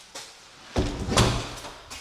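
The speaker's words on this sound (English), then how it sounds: "Let me close this door so I don't let any bugs in." A farmhouse door being shut, a faint tap and then a thudding close with rattling, followed by a few lighter knocks as it settles.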